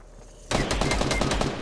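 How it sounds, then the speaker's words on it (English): Gunfire in the video game Fortnite erupts suddenly after a quiet moment, a loud, dense burst of rapid shots that keeps going without a break, with no voices over it. "they shooting at me."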